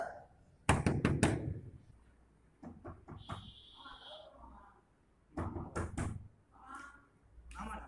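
A quick burst of hard knocks on a door, then more thuds a few seconds later, loud and close in a home setting, with muffled voices talking between the knocks.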